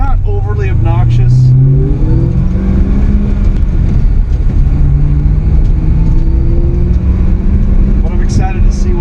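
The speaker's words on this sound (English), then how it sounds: "this exhaust in this car really does sound good, especially outside of the car" Exhaust of a 2006 Saleen Extreme while driving, a loud, deep engine drone heard from inside the car that rises and falls in pitch through gear changes, with a person talking over it.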